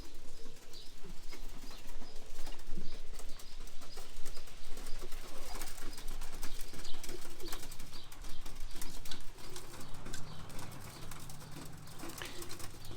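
Roller pigeons coo and flap their wings around a kit box and landing tray, a steady outdoor bird bustle with wingbeats throughout.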